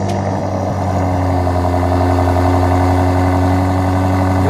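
A BMW SUV engine runs at a steady idle at a car auction, a close, loud continuous low hum with stable harmonics and no talk over it.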